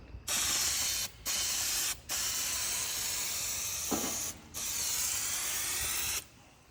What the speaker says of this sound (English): You just shake it up, and then just spray a cable down.